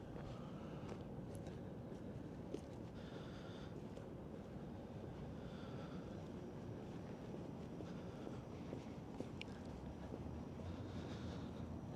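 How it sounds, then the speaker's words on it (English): Wind gusting along a frozen downtown city street on a bitterly cold winter day, a constant low roaring rumble buffeting the microphone, steady and fairly faint throughout with no voices. "as I said that, the wind just kicked it up a notch"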